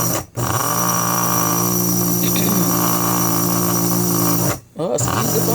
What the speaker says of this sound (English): It's a Cuisinart coffee grinder, and I'm just going to push the button and grind it.